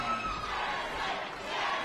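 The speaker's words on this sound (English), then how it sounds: "the Jesse crowd is coming out from his fans here at Perth Metro City. You can hear it loud and proud." A boxing crowd at Perth Metro City roars and cheers for Jesse White, a steady, loud wall of massed voices that swells throughout without a break.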